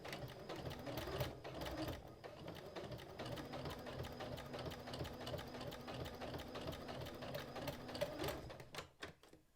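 A sewing machine stitches in the ditch along a quilt seam, running steadily and close by for about nine seconds with a continuous rapid needle rhythm and motor whir, then stops near the end.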